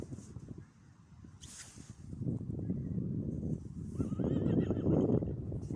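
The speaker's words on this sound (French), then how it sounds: "Les chevaux." Horses neigh and whinny outdoors on a snowy walk near Payolle in the Hautes-Pyrénées, with several rising calls over a fairly loud, rustling background, the loudest toward the end.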